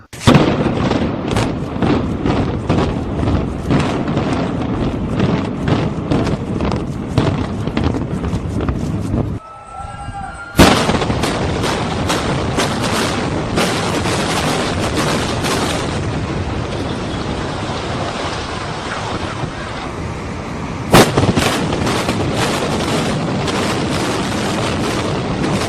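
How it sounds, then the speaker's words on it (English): Loud, continuous rumbling roar with repeated booming bursts, a sharp break near the middle, then more dense rumble and a strong boom near the end, recorded near the World Trade Center during the 9/11 attacks. "I think I know an explosion when I hear it."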